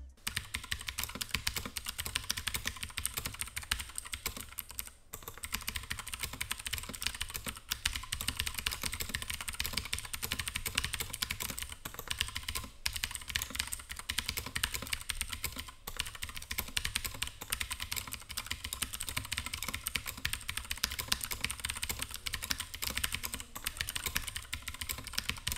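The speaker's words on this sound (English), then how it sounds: "So now let's move on to a sound test of the GK61 with Gateron Blues." Someone types continuously on a GK61 60% mechanical keyboard fitted with Gateron Blue switches, producing a steady, dense stream of crisp clicky keystrokes close to the microphone with only a few brief pauses.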